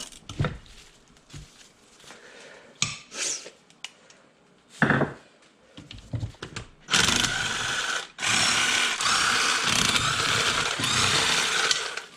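10mm bolts come out of a Datsun 280ZX five-speed transmission during a rebuild: short bursts of ratcheting wrench clicks and metallic taps, then longer loud spells of rapid mechanical whirring, close and without talk.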